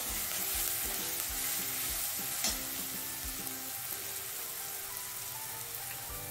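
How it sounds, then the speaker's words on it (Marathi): Spiced potato mixture being stir-fried in a hot tempering for batata vada, with a steady oil sizzle throughout and repeated scraping stirs of the spatula at a regular rhythm, close up and without talk. "आता हे सगळं मिश्रण आपण छान एकजीव करून परतणार आहोत।"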